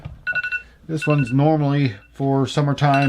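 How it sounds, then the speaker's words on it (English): A phone alarm sounds briefly as a short run of steady electronic tones near the start, then stops as a person begins talking over the rest of the moment. "that's my alarm going off."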